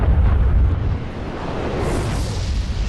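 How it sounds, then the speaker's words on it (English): A grenade blast in the video game Destiny booms loudly up front and then fades into a rumbling, noisy tail, with no voices over it. "He threw a grenade."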